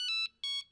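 A telephone rings late at night, two bright electronic ring bursts in a steady double pattern with a short gap between them, clear and alone with no talk.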